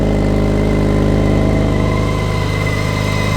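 A BMW K1600 GT six-cylinder touring motorcycle idles up close with a smooth, steady, loud hum and no talking.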